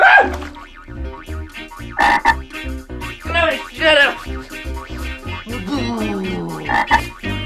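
Repeated frog croaks, loud and close, in an uneven series of short bursts over a steady musical background.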